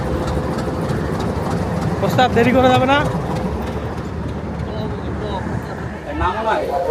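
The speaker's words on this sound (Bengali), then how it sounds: "ট্রেন চলে আসছে আমাদের, আরো 5 মিনিট সময় হচ্ছে" A train pulls into a station with a heavy, steady low engine rumble throughout and a horn-like tonal blast in the middle, while people talk nearby.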